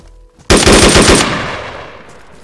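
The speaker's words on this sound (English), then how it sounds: "Whoa, good shooting." Rapid burst of automatic gunfire in the DayZ video game, a dense string of loud close shots lasting under a second after a quiet start, followed by a long fading echo tail.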